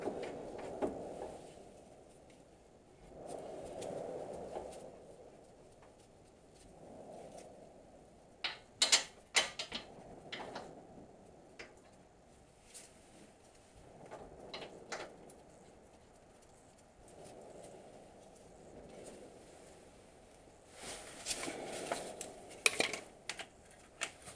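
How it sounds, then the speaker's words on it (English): An air ratchet works on the wheel hub of a 2007 third-generation Dodge 2500 pickup, with bursts of rapid mechanical clatter and metal clinks between quieter stretches, faint and alone. "Air ratchet again."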